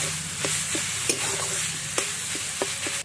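Chicken pieces stirred with a paste of ginger, garlic, cumin, turmeric and chili in a hot pan, close sizzling with repeated sharp scrapes and taps of a spoon, no voices.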